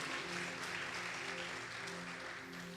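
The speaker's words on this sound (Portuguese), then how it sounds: "Você pode aplaudir o Senhor?" A church congregation applauds together in a steady, sustained wash of clapping that fills the room at an even level throughout, with no break or swell.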